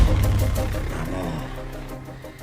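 A motorcycle passes along a road, its engine drone loud at the start and gradually fading as it moves away, with no voices over it.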